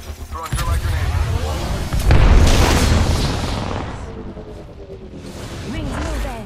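A thermite grenade bursts in a video game firefight, a loud booming blast with crackling, hissing spread amid continuous gunfire and explosive clutter, with voices talking over the action.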